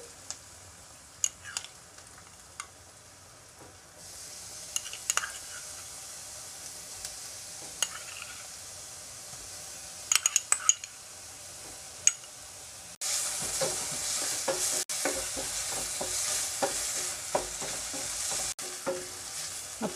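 Onion with crushed ginger and garlic fries for a Kerala-style aloo palak, with sharp spatula clicks against the pan at first, then a much louder, steady sizzle swelling in the second half.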